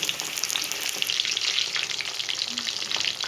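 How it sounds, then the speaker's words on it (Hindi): Chicken chop pieces fry golden in hot oil, giving a close, steady sizzle with bright crackling bubbles and small pops, and no voices. "चिकन को हम करेंगे गोल्डन फ्राई"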